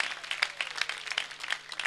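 Studio audience applause on a Turkish television show, a steady patter of many hands clapping at moderate volume, continuous across the short stretch.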